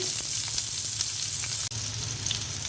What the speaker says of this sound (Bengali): করলা ভাজিটা বসিয়ে দিচ্ছি